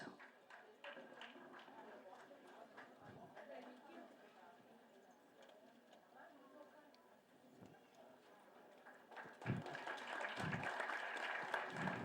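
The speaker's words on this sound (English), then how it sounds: "May I request the gathering to kindly stand and show our gratitude to our guests by giving a round of applause." A standing audience at a nursing awards ceremony claps for the guests, steady applause in a hall with voices mixed in, swelling louder toward the end.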